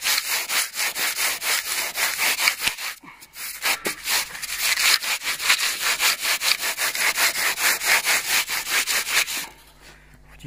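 A foam float rasp scrapes back and forth over polystyrene insulation boards on a house wall, a loud rhythmic series of rough rasping strokes, close up, with a short pause partway through and no talking.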